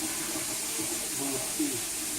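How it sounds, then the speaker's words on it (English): Lukewarm tap water runs steadily into a bowl being rinsed out in a home kitchen, a constant close hiss and splash with soft voices faintly underneath. "she's just going to get a little bit of lukewarm water here and clean the bowl out"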